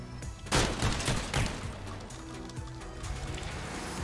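Vehicle-mounted guns firing in the Crossout combat game, with a rapid burst of heavy shots early on followed by scattered quieter bursts and rumbling engine noise underneath.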